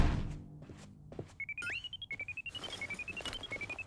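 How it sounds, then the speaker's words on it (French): A shrill electronic alarm rings in a Polly Pocket cartoon, sounding as a rapid pulsing beep in repeated bursts after a few soft thuds, fairly quiet and with no talk over it. "Arrête cette sonnerie infernale!"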